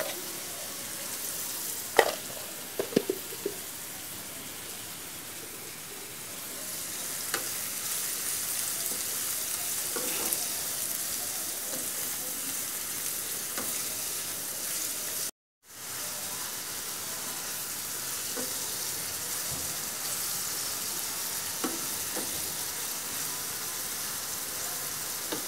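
Onions sizzle and fry steadily in a hot pan while a fish roe curry is being cooked, a continuous close hiss with a few light clinks and stirs, broken by a brief gap.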